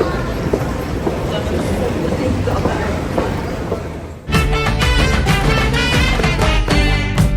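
Rumbling interior of a moving Copenhagen metro train with murmuring voices, then a sudden louder shift to rhythmic rattling and whine as the carriage runs on.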